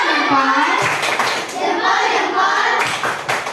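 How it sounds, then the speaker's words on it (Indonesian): A classroom group claps together after a presentation, a loud close burst of hands with some rhythmic patterning, mixed with children's voices and chatter over the clapping. "sekali lagi tepuk salut untuk kita semua"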